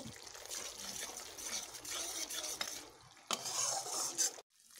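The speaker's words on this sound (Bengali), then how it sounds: "মশলাগুলো এইভাবে আমি কষিয়ে নিচ্ছি" Spice paste stir-fried in oil for a jackfruit seed dish, a steady close scraping and sizzling in the pan with clinks of the spoon, pausing briefly midway and cutting off near the end.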